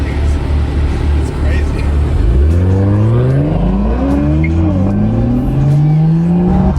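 A tuned Toyota Supra engine revs up in rising sweeps, loud and close, with the pitch climbing repeatedly over a steady rumble, while people talk over it.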